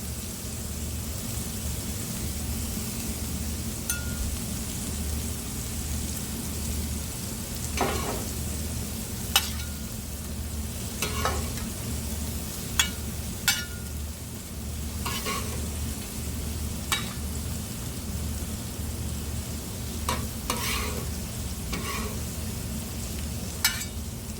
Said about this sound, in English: Onions going on